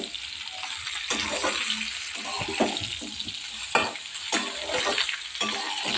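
Panch phoron spices fry and sizzle in oil over low gas heat for a homemade mango pickle as a spoon stirs them, with sharp scraping strokes against the pan at intervals above a constant soft hiss.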